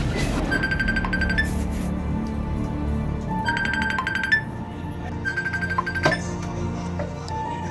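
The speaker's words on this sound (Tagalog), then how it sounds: "cellphone mo ata yung nagre-ring." Cellphone ringing indoors in repeated bursts of a bright electronic ringtone, with short gaps between rings, clear and fairly close over a quiet room.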